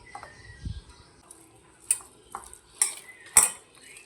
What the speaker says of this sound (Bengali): খুব ভালো করে সমস্ত কিছু একসঙ্গে মেখে নেব।